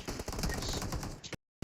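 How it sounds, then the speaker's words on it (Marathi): In a video game, a machine gun fires a quick, loud burst of shots that ends abruptly, followed by brief silence and a final clipped sound. "मशीन गन मधून 4 गोळ्या निघाल्या"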